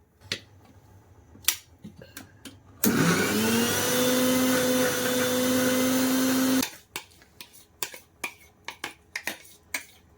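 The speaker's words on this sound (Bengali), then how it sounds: "এবারে মিক্সারে দিয়ে গ্রিন্ড করব।" A kitchen mixer grinder whirring through spinach and green chilli, one loud continuous motor whine of about four seconds, framed by scattered clicks and handling taps before and after.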